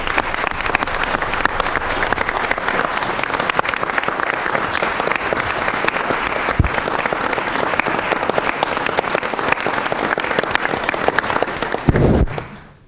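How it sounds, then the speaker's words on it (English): Audience at an employee recognition event applauds steadily and fairly loudly for the whole stretch, dense even clapping with no talk over it, cutting off abruptly at the very end. "let's give Robert a round of applause for his great work"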